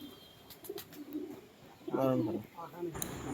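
A nearby pigeon gives two soft, throaty coos in the second half, over a quiet background with a few light clicks.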